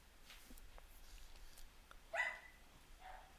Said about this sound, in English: Oh, there goes my dogs.